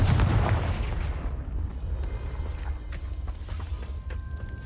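Confringo fire-blast spell cast in Hogwarts Legacy: a loud booming explosive burst at the start that decays into a rumbling tail, followed by scattered smaller crackles and thuds.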